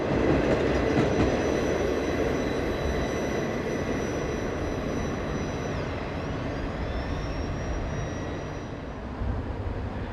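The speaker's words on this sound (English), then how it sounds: "There were 132 ore jennies in this train, assembled in mini-quads, permanently coupled groups of 4 hoppers." A long freight of ore hopper cars, 132 ore jennies in permanently coupled groups of four, rolls steadily past close by, with continuous loud rumbling, wheel clatter and a faint high squeal throughout.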